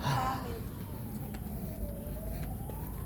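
Fire truck siren wailing at a distance, a long rising and falling tone drifting under low background noise near a barbershop, with people talking nearby.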